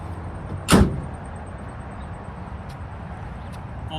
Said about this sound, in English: When I want it to go back up, I just close the tailgate.